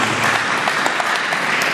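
A church congregation claps together for the Lord in a dense, loud burst of applause that fills the room, steady throughout with no break.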